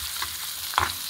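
Tempering for tomato fenugreek rasam fries in a pan, a brief soft sizzle with a single stirring clink near the end.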